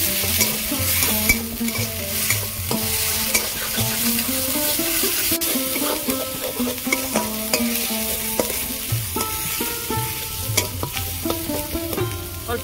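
A ground paste of onion, garlic, ginger, green and dried chilli and black cumin frying loudly in a pan with okra and prawns nearby, a dense sizzle broken by repeated spatula scrapes and knocks, close up.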